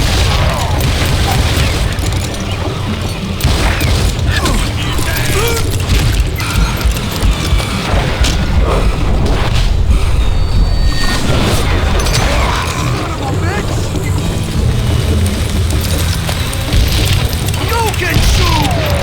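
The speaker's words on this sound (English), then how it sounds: "I got a lot more dynamite than you!" Dynamite blasts and gunfire in the Western shooter Call of Juarez: Gunslinger, a continuous loud barrage of booms, crashes and shots layered under shouted voices, dense and chaotic throughout.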